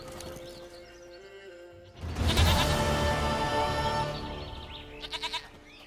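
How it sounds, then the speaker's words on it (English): Goat in The Witcher 3: Wild Hunt, a single loud wavering bleat that rises over quiet ambient game sound, followed by a few short pulsing bleats near the end. "Goat of mine, dearest, sweetest goat."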